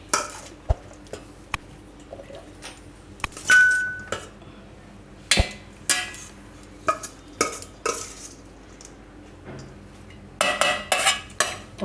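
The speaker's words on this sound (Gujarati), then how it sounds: "તો પૌવા છે એને આપણે લઈ લેવું મિક્સર જારમાં આ રીતની." Soaked poha, flattened rice for a poha-sooji uttapam batter, spooned into a mixer jar in a home kitchen, giving scattered sharp clinks and taps of spoon on metal over a quiet background, with a brief murmur of voice.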